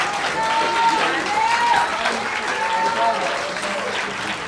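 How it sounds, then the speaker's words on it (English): Graduates' families and guests at a GED graduation ceremony applaud in a sustained, even wash of clapping, while a speaker's voice carries on over it. "you can clap"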